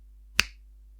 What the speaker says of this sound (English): I just need to snap my fingers and